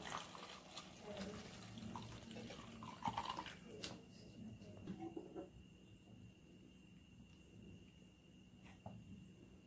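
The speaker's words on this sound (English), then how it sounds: "Now we can pour water." Water poured into a corn paste for creamy mushroom corn soup, a faint splashing trickle for a few seconds that then tapers into quiet, with soft kitchen clinks.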